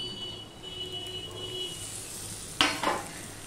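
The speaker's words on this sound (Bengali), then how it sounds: "টমেটো কাঁচা লঙ্কাটা দিয়েও আমি ভালো করে ভেজে নেব।" Tomato and two green chillies frying in a pan with murola fish, a soft steady sizzle under a faint background hum, then two sharp stirring or scraping bursts close by near the end.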